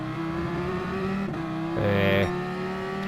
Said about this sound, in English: this car we're now on board, which is the Dodge SRT Tomahawk Group 1